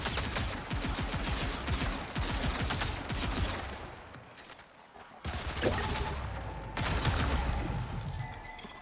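Rapid gunfire in the shooter game Marathon crackles in dense automatic bursts, near and loud, with a short lull midway before more volleys and booms resume.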